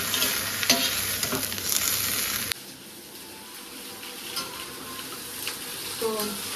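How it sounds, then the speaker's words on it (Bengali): Vegetables with chicken frying and being stirred in a pan, a loud sizzle with scraping strokes that drops suddenly to a quieter, softer sizzle partway through, with occasional utensil scrapes. "এই সবজিগুলোকে ভালো করে ভাজছি"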